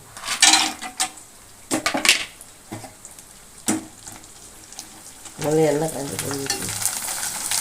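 Rice flour and onion vathal frying in hot oil, bursts of sizzling and bubbling with stirring and clinks, louder spells alternating with quieter gaps, occasional voices nearby.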